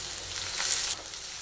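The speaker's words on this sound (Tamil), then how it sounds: "கருவேப்பிலை, சின்ன வெங்காயம், இப்படி வரமிளகாயும் போட்டு" Curry leaves, small shallots and dried red chilies sizzle in hot oil, a brief, bright crackling hiss that swells and then settles.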